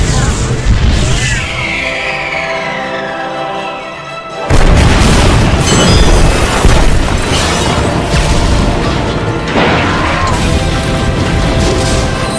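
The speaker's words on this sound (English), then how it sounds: "All gunships, fire!" Gunships fire on a cruiser in an animated space battle, with heavy booming blasts and crashing explosions that swell into a loud, continuous barrage after a brief lull, amid battle noise and a sci-fi score.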